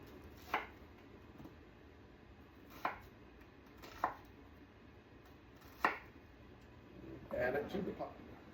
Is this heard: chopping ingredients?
yes